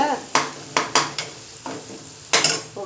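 Masala frying in oil for a Tamil kurma is stirred with a utensil, sharp scrapes and clinks against the pan coming in an irregular rhythm over a steady soft sizzle, close up.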